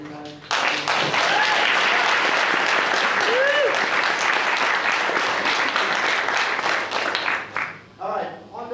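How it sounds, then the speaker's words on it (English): Audience applause at a university panel discussion for the organizer, a full room clapping loudly and steadily before tapering off near the end, with a voice briefly heard over the fading claps. "Can I put one last round of applause to Professor Sharifi who organized?"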